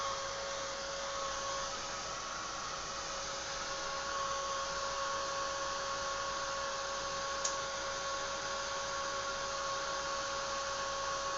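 A hair dryer running continuously at a journal decorating session, a steady even whoosh with a faint tonal hum, no voices.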